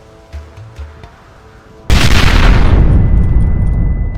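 A fort raid in Red Dead Redemption, opening with faint low rumbles, then a sudden loud blast of gunfire and explosions that settles into a dense, roaring, sustained barrage.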